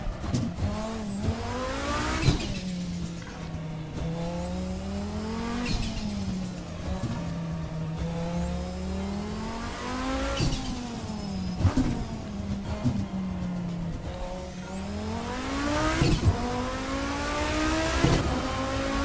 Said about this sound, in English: the car going through the tunnel there